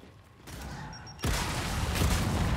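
A frag grenade explodes in the Gears 5 video game, a sudden loud blast after a brief quieter buildup, followed by sustained rumbling gunfire and battle noise.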